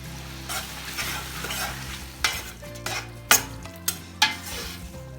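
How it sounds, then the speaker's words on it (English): Chopped tomatoes and curd stirred in a frying pan, a soft sizzle underneath with several sharp scrapes and knocks of the spoon against the pan, fairly close and quiet, no voices. "Then goes chopped tomatoes. Mix for a minute. Add curd and mix."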